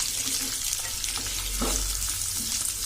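Finely chopped onions fry in hot oil with a dense, steady sizzle and crackle, close and continuous, with faint stirring scrapes mixed in.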